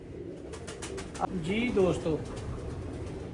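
Parel pigeons coo in a few soft, rolling calls near the middle, set against steady background noise, with someone talking over them.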